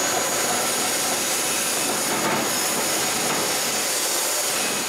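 A motorized saw cuts through wood with a dense, unbroken roar that holds at a steady, loud level for several seconds, with no voices.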